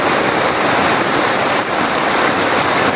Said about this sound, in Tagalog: sobrang baha na po talaga mga kaidolo oh